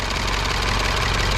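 A MINI Cooper engine idles steadily just after cooling system work, a continuous even running hum with a faint rhythmic pulse and no voices.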